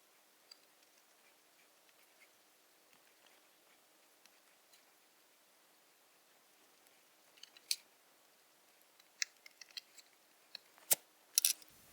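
Scissors snip open holes in antique radio grille fabric, a few sparse quiet cuts giving way to a denser burst of sharp snips near the end, with no talking.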